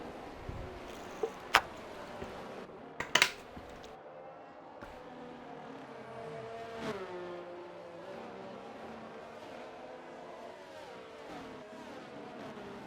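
Race car engines in a racing video game whine and rise through the gears, fairly faint and continuous, with a few sharp clicks early on.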